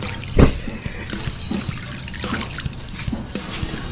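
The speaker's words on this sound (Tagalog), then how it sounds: "Bigyan natin ng tubig." Water is poured into a pot holding pork hock, making a steady splashing trickle with a brief louder gush at the start, heard up close in a kitchen.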